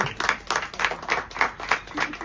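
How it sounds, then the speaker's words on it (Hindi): Wedding guests clap at a Vedic Hindu wedding ceremony at a palace venue in Pushkar, a scattered round of applause that swells and dips in rhythmic pulses, with voices mixed in. "भाई अब तो ताली बजाओ, जब तालियां बजाओ सारे।"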